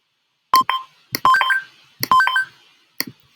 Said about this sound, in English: I have this sound preloaded up, the coin.